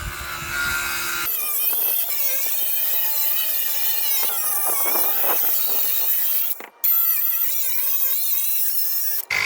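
A power saw cuts a skylight opening through a shed roof in steady, close, moderately loud bursts, with a brief pause near the end.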